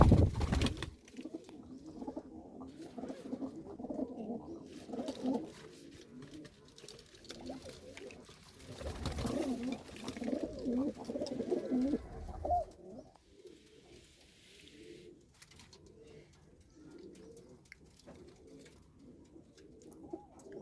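Low, soft pigeon cooing repeats through much of the stretch, fairly close, with faint rustling and background noise between the calls.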